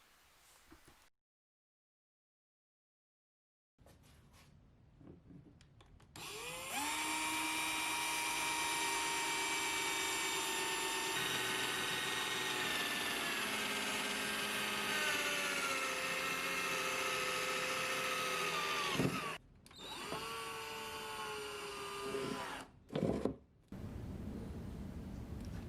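A power drill bores extra drainage holes through a flower box planter, a loud sustained whine running steadily for about twelve seconds, then stopping with a few short bursts near the end.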